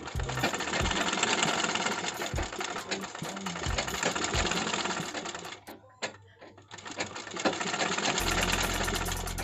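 A sewing machine with a stitch-skipping fault runs with a rapid mechanical clatter and occasional knocks, pauses briefly midway, then resumes, close and loud.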